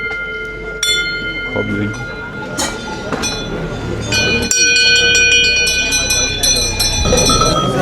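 Second-hand cowbells and sonnailles ring at a bell fair in Cheylade, with several metallic strikes whose tones overlap and linger. They sound close and loud amid the fair's background bustle, and a voice speaks briefly.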